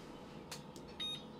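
Oven timer control panel beeping, a few short high electronic beeps in quick succession, faint and close, over a quiet kitchen background with no talk.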